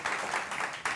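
An audience claps and applauds at an on-stage cricket discussion, a dense even patter of many hands lasting about a second at moderate distance, with no voices over it.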